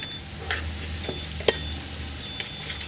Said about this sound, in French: Je vais mettre une pointe de mayo sriracha. Et je pourrais mélanger.